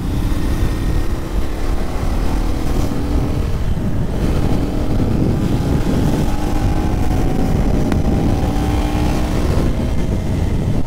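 A 2024 KTM 250 Duke motorcycle ridden through the city, its engine droning steadily with wind rushing over the microphone, loud and continuous throughout with no talking.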